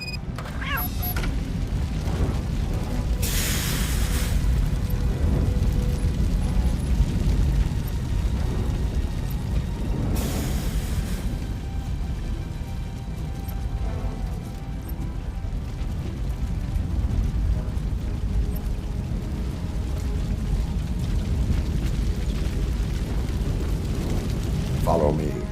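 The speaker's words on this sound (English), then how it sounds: "Fire is blocking the way." Fire burns in the video game Robocop Rogue City, a steady low roaring rumble that carries on for the whole stretch, with a couple of brief louder flare-ups and no voices.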